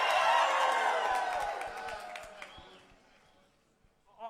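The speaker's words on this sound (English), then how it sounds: "Let's hear a cheer." Audience at a youth rock band competition semi-final cheering and whooping on cue, a loud burst at the start that fades gradually over a few seconds, with a brief new shout near the end.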